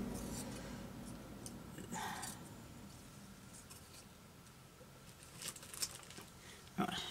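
Scissors cut through a piece of overlocked fabric, giving soft, close snipping and rustling strokes that become crisper near the end over a quiet room background.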